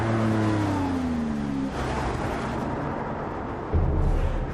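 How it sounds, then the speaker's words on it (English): A Lamborghini Aventador LP700-4 supercar engine revs up in a rising, loud, close whine, drops back briefly, then surges again with a deep burst near the end. "right now, the car leading that charge is the Aventador."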